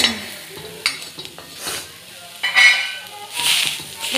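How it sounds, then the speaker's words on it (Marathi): Green chillies are crushed with a stone on a hot griddle for spicy Kolhapuri thecha. Irregular close thuds and scraping strokes mix with a soft sizzle in uneven bursts. "हे गरम असतेवेळी ठेच मिरच्या अशा ठेचून घ्यायच्या आहेत"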